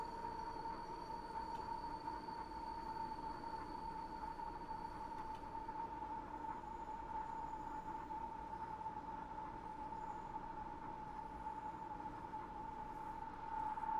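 Steady interior drone of a Class 90 electric locomotive running in Train Sim World, a continuous mid-pitched whine over low rumble, constant and loud for the whole stretch, no talk.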